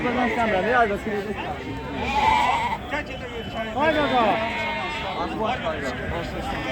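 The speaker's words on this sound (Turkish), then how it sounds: "Keçilər." Goats and sheep bleating at a livestock market in Ganja, several wavering cries, some loud and close, among crowd chatter and people talking.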